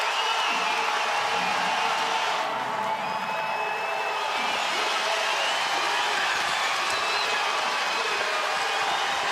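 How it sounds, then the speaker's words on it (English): A packed arena crowd at an NBL playoff game between the Perth Wildcats and Melbourne United roars without letup after a three-pointer, a dense, loud wall of cheering and whooping that holds steady throughout. "They are going off their nuts right now."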